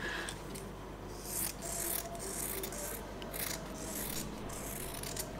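Scissors cut through a fabric pattern for a butterfly hair bow, with a series of quiet, rhythmic snipping crunches repeating close by across several seconds.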